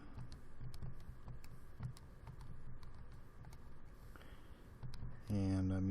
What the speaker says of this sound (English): So let me type this in using the home screen here